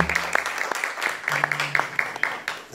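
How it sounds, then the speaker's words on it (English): A church congregation at a Sunday service claps for the choir, a dense burst of applause with sharp individual claps close by and a low voice murmuring underneath. "Let's clap for the choir."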